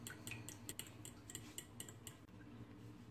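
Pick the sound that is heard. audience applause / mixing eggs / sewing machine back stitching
mixing eggs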